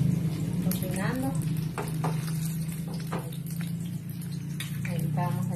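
Chiles rellenos sizzle and fry steadily in a pan at home, a continuous crackling hiss with occasional clinks and stirring, while a person talks over it.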